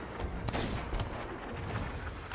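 Ship cannons fire in the pirate game Sea of Thieves, a few heavy booming blasts about half a second apart over continuous loud rumbling battle noise, with no talking.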